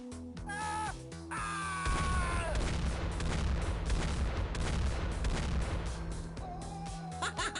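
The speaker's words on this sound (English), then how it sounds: "But maybe a few random mortars are also required." Mortar fire in the turn-based strategy game X-Piratez, a series of booming launches and explosions layered over game music and synthetic tones, dense and loud through most of the clip.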